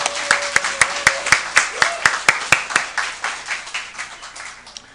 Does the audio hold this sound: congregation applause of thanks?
yes